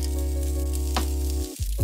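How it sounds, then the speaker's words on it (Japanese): Eggs fry on slices of cheese in a pan, a steady loud sizzle close by, briefly broken near the end by a couple of light stirring scrapes. "スライスチーズの上で卵を焼きます。"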